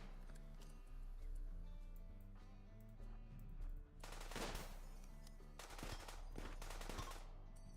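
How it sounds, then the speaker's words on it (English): Gunfire bursts in Rimworld, with a couple of sharp, noisy submachine-gun volleys standing out over steady background music, fairly close and loud within a quiet mix. "Debs nearly caught Alvarado with a burst from her machine gun. Submachine gun."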